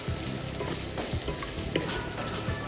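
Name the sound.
stirring spiced filling in a pan after adding garam masala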